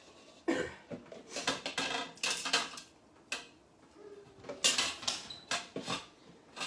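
Chicken stew stirred in a metal pot, a nearby run of uneven clinks and scrapes from the spoon against the pot, coming in bursts with short pauses between them.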